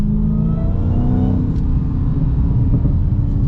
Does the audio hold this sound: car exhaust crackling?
yes